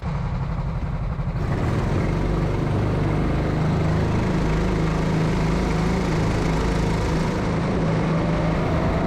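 Racing go-karts rev at the start of a sprint race at Ampfing, a loud, dense engine roar that swells after the first second and stays steady and close throughout.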